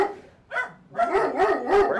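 A dog barks in several sharp, close bursts, one short yap followed by a quick run of loud barks, with no voices over them.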